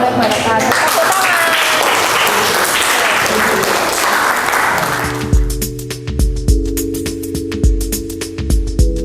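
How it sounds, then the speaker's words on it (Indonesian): Dense audience applause fills the first half, then thins into scattered, irregular claps at an Indonesian university teaching event, with voices mixed in. "Tepuk tangan."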